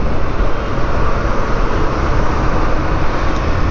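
A train moves slowly, giving a loud, continuous broadband rumble with no distinct beats or breaks, heard alone without any talking.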